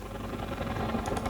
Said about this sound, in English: That is a helicopter.